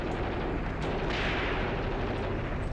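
Gunfire from a battle in the wargame Graviteam Tactics, set on the Luga Line near Peleshi, forms a dense, continuous rumble of distant shooting and artillery-like booms with no clear pauses.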